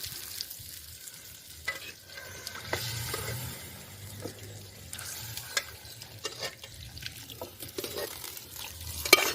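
Country chicken curry stirred in a hot pan, with a continuous sizzle and irregular scraping, soft wet movements and spoon clicks, fairly quiet and close.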